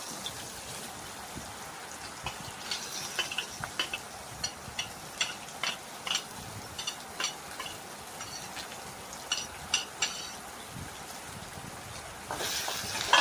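Onion and dried red chilies sizzle in oil in a wok, a steady frying hiss punctuated by soft scraping stirs, fairly quiet and without talk.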